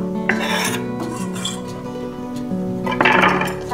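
Garlic frying in cooking oil in a pot, a soft sizzle with scraping and stirring rasps, a brief louder scrape near the start and another toward the end, close by with no talk.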